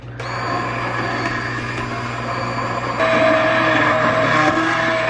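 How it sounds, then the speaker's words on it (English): An immersion blender purées a pot of pea soup with a steady, loud motor whine that holds throughout and gets slightly stronger partway through as the blade works deeper. "take our immersion blender and just blend this up"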